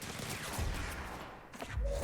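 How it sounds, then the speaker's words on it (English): A warning gunshot burst in the video game Control, a short loud volley of sharp cracks mixed with low booms over continuous game audio. "There's a warning shot"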